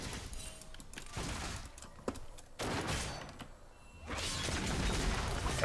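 Gunfire in a video game, several bursts of rapid shots in quick succession, loud and close, with short gaps between them.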